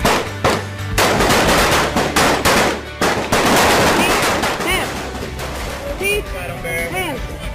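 Bursts of gunfire ring out during Air Force basic training drill, loud rapid volleys and single cracks overlapping close by, with shouted voices between the shots.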